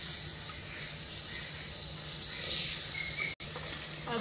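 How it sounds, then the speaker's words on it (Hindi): Sugar syrup poured into wheat flour halwa in a pan, a steady liquid gush and sizzle running continuously and close, with a brief cut near the end. "अब इसमें चाशनी ऐड करेंगे,"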